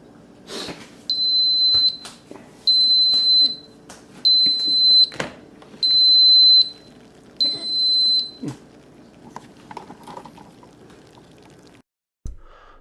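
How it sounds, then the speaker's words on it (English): An Aroma ARC-914SBD rice cooker sounds its done signal: five loud, evenly spaced high-pitched beeps, each about a second long, over a quiet kitchen background, followed by a couple of faint clicks. "now you're about to hear the fun little buzzer to let you know that everything's done."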